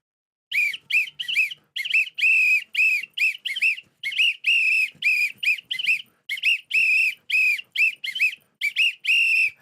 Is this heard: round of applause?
no